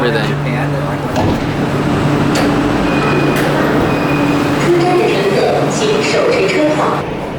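Steady rumble and whine of a local metro subway train riding near Shanghai, continuous and fairly loud throughout, with a brief tonal squeal partway through and faint voices in the carriage.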